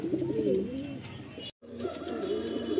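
Pigeons at a sale coo in low, warbling, throaty rolls close by, broken by a brief drop to silence before the cooing resumes.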